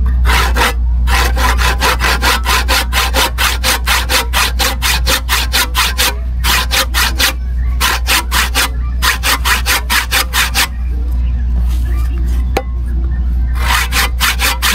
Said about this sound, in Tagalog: Pero kung matalas lang tong lagari na to, saglit lang to.